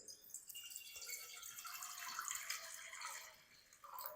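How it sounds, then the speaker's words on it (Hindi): About two cups of water pour steadily into a cooking pan, a soft continuous splashing trickle that stays close and fairly quiet, with no talking over it. "इसके अंदर ना हमने तकरीबन 2 कप पानी शामिल कर देना है।"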